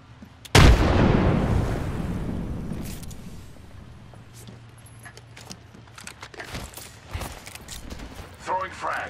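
A frag grenade detonates in Apex Legends with one loud, sudden boom that rolls off into a long fading rumble, followed by scattered gunfire and game effects.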